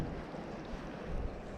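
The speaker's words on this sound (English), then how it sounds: "it's very windy and cloudy out here at the moment" Wind blows steadily outdoors at a backyard pond on a cloudy day, a continuous low rush buffeting the microphone with no other sounds.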